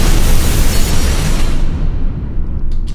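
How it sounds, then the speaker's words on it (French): A powerful explosion sound effect erupts as a loud, dense, rumbling boom that fills the whole range, then slowly decays over a few seconds into a low roar before cutting off. "parti pour l'explosion quoi."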